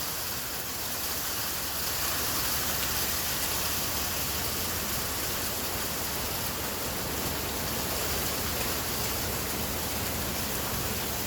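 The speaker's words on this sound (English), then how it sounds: "that's rinsing the snow foam off a treat." Water from a pressure washer rinses snow foam off a car, a steady, dense broadband hiss and spray that runs unbroken and fairly loud throughout, with no voices.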